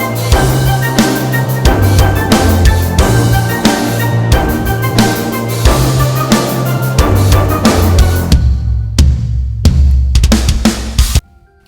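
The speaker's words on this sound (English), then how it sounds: "there are traditional drums that layer in over the Fright Night kick" Traditional drum kit layered over a horror-movie kick drum sample in a pop rock Halloween track, punchy hits driving a full loud mix that drops out near the end.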